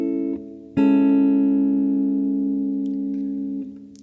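A single sustained guitar chord in open E tuning, voiced 7, major 3, 5, 1, rings out clearly, struck once after a short preceding note, then slowly decays over a few seconds.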